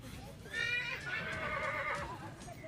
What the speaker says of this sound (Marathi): आपण बघतोय 68 इंचांचा हा घोडा 19 कोटी इतकी या घोड्याची किंमत असल्याचं देखील म्हटलं जात आहे